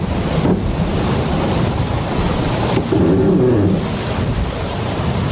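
A sailboat racing at sea in the Vendée Globe, with steady wind buffeting and waves washing and surging around the hull, close and loud, with no voices.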